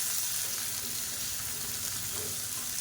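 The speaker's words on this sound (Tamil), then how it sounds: "இந்த வெங்காயம் நல்லா வதங்கட்டும்." Small onions sizzle steadily in a hot pan for a chutney, a continuous close frying hiss with faint stirring and no talking.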